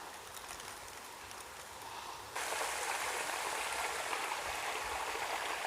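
Water pours from a pipe into a canal lock beside a coconut plantation, a steady rushing splash that swells abruptly partway through and continues loud and constant, with no talking.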